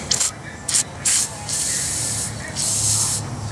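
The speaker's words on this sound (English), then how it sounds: "just spray it along the flange of that bolt" Several short bursts of penetrating oil aerosol spray hiss onto a bolt flange on a Ford Super Duty truck, then two longer continuous sprays, close and fairly loud with a faint background hum.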